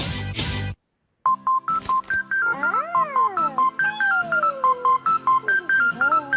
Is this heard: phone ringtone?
yes